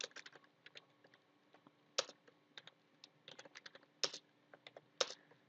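Quiet, irregular clatter of keys on a computer keyboard, bursts of quick taps with a few heavier strokes standing out, close by and with no voices.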